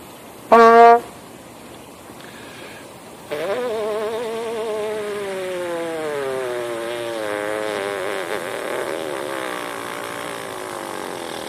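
A short, high buzzy blip, a pause, then a sustained trumpet-style lip buzz that slides gradually downward in pitch toward a low pedal note, steady and close.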